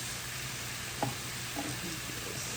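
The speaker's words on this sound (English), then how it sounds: "While that steak is cooking" Steak fries in a pan with a steady, moderate sizzle, broken by two soft knocks around the middle.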